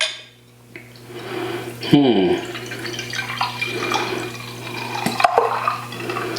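Dogfish Head's Utopias barrel-aged World Wide Stout is poured hard into a glass, a gurgling liquid stream with glassy clinks and splashes, heard close and steady.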